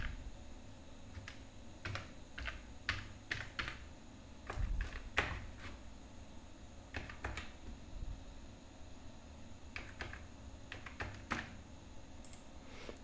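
Keys tapped on a computer keyboard to enter a registration number: scattered, quiet clicks in short irregular bursts against a faint steady hum, with no talk.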